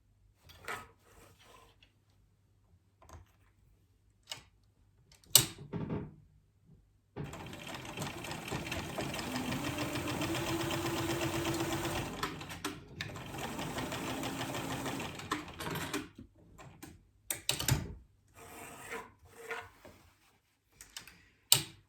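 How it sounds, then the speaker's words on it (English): A home sewing machine basting and stitching the sides and bottom of a Wanderlust tote bag runs in two bursts of several seconds each, separated by a short pause and surrounded by quiet clicks and fabric handling. "Now we just want to baste it into place on the sides and sew it at the bottom."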